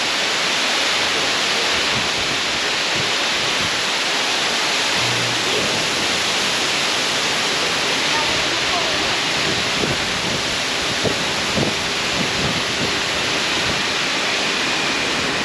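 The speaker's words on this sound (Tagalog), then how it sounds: "Ayan po yung Tak-Tak Waterfall." Tak-Tak Waterfall at a nature and adventure park roars with steady, broadband rushing water, loud and constant without a break, while faint voices sit far beneath the noise.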